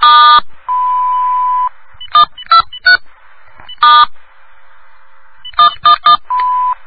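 A telephone answering machine emits a long steady beep after its outgoing greeting, amid a few short stacked electronic tones and keypad-like bleeps, clear and close with no speech.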